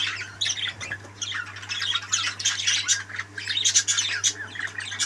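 A parrot that has recovered from a foot injury squawks and chirps in harsh repeated bursts, close and loud, with no talk over it.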